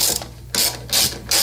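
A nut driver style handle ratchets in quick clicking bursts while tightening the carburetor on a Honda HRR lawnmower, three loud close rasps separated by brief pauses.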